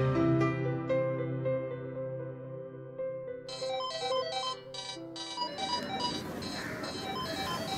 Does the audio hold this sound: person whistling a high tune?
no